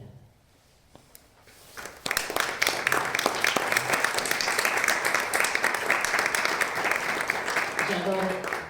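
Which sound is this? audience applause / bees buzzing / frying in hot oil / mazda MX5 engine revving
audience applause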